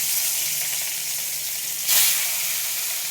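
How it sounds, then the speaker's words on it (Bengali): Shol fish fries in hot mustard oil, giving a steady close sizzle and hiss that swells into a brief louder burst of spatter near the two-second mark before settling back. "তেলটা গরম হয়ে গেছে, এবার আমি মাছগুলো ছেড়ে দেবো একে একে"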